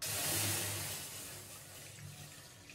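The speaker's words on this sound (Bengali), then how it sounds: "আমি যে পাত্রে সুজি রান্না করব তাতে দিয়ে দেব গরুর দুধ।" Cow's milk pours into a kadai for cooking semolina, making a soft, brief gurgling splash of liquid that fades over a couple of seconds.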